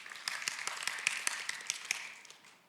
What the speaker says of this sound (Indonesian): Tepuk tangan dong buat Antoni.